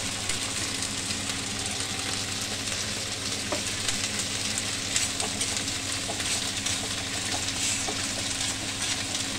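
Fried potatoes hit sizzling mustard in a pan for a village-style chela fish curry, producing a constant loud crackling fry with a few sharp pops and light stirring, no talking.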